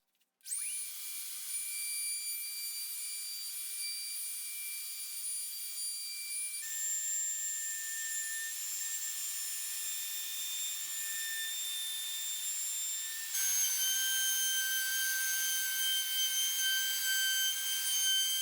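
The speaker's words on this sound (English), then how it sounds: "I'm going to chamfer the edge of the top of the plywood work surface" A router chamfers the edge of a plywood workbench top, giving a steady, high whining cut that runs continuously and shifts pitch twice, close and alone.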